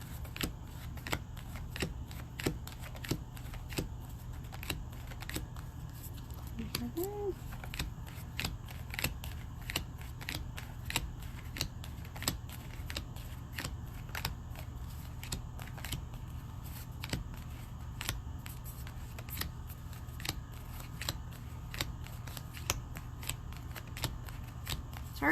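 Playing cards are shuffled continuously in a quiet room during a live medium reading, with a soft, steady stream of rapid riffling clicks running throughout and no voice.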